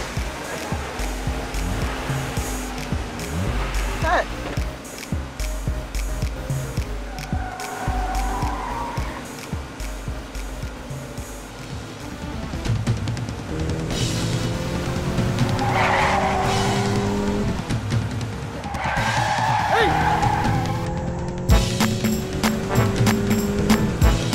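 A push-button-start car fires up and pulls away, its engine revving hard with tires squealing and skidding, loud and close, for a long stretch without talking.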